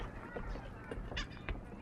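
Seagull calling near the shore, a few short honking cries close by over background noise.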